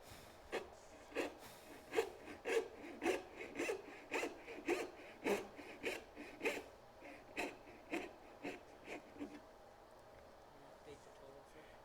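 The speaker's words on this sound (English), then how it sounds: "And then just saw it down to your line." A hand saw with a very narrow kerf cuts down through wood to a marked line, making a steady series of rasping strokes in a regular back-and-forth rhythm, fairly quiet and close.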